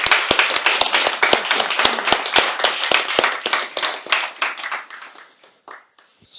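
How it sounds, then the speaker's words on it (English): A room audience claps at the end of a talk on data behind large language models, a brisk burst of many hands that thins out and fades over several seconds. "They deserve a clap."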